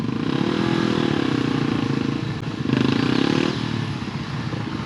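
Small dirt bike ridden on an old trail, its engine buzzing close and steady with a revving rise and fall, briefly dipping before surging again.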